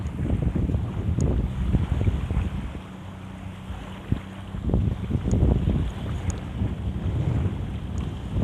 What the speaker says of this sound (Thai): นี่ก็เรียกว่าเรือประมงขนาดเล็ก